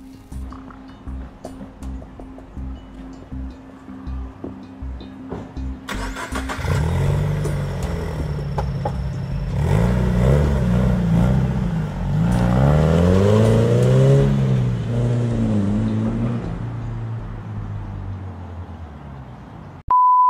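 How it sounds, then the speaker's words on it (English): A 2013 Subaru BRZ sports car engine idles, then revs up hard and roars as the car launches and accelerates, the pitch climbing and falling through gears before a short beep. "I'm gonna see how good it does launch"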